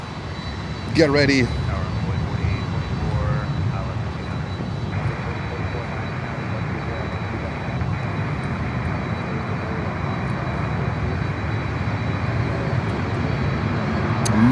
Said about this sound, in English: Latam Cargo, and we have that 767 coming in.